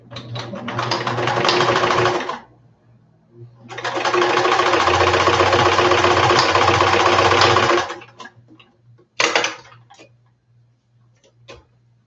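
A sewing machine stitches layered felt butterfly wings in two long runs of steady, rapid mechanical whirring, separated by short pauses, followed by a brief burst and a few faint clicks near the end.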